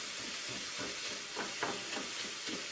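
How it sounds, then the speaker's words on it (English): Venison frying in a pan alongside mushrooms and onions, a continuous close sizzle with occasional bursts as the meat is pushed and stirred. "pull the mushrooms and the onions to the side and then just throw the venison in"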